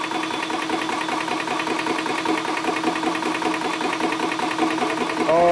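A 350-watt PCP air compressor for pressurising air to 2500 PSI runs steadily and close, a dense mechanical buzz with rapid pulsing vibration, alone without voices.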